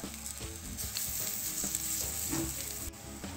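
Steady crackling sizzle of potato and onion snacks frying on a hot griddle, with occasional soft scraping and tapping from a utensil, no voices.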